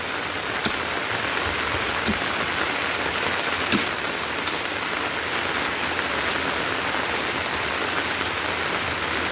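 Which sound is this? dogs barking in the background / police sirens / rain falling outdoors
rain falling outdoors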